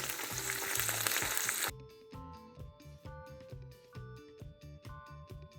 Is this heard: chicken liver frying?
yes